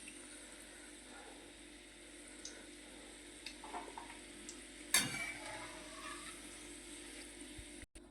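Sweet potatoes frying in oil for Kathiyawadi undhiyu, a quiet continuous sizzle with light stirring and one sharp clatter of a utensil partway through, close by and without speech.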